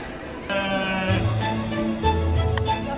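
Goats and sheep at a Christmas nativity display in Bratislava, Slovakia, give several nasal, wavering bleats in quick succession. The calls are close and clear, with a faint murmur of background noise.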